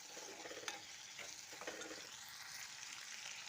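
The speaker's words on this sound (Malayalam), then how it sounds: "എന്നിട്ട് നന്നായിട്ട് ഇളക്കി കൊടുക്കാം." Soybean curry with curry leaves is stirred in a pan, a faint continuous sizzle with a few soft scraping strokes of the spoon, no voices.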